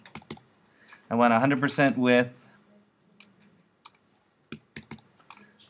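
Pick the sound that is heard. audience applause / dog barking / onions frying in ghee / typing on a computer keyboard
typing on a computer keyboard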